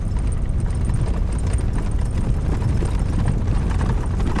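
A small custom micro RV rattles and rumbles continuously over a badly washboarded dirt road, a dense, close, unbroken juddering roar with no speech.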